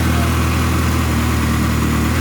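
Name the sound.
Ferrari 360 engine running after giving gas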